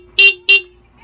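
Horn on a Honda Wave 125 motorcycle, newly installed with a passing light, sounds two short loud toots of about a third of a second each, close up with a brief gap between them.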